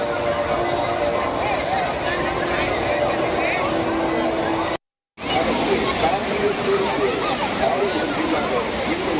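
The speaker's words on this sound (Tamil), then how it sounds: "கொடிவேரி அணையில் தண்ணீர் அருவி போல் கொட்டும் நிலையில்" Water pouring over Kodiveri dam like a waterfall, a steady loud roaring wash with splashing, continuous apart from a brief cut midway, with crowd voices faintly mixed in.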